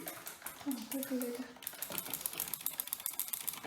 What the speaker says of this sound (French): clavier mécanique, écoutez-moi le bruit